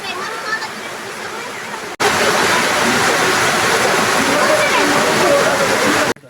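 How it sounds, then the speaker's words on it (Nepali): Heavy rain pours down on a hiking trail as a dense, loud, steady hiss that swells after a brief lull and holds at full strength. "झन् ठुलो पानी पऱ्यो गाइस"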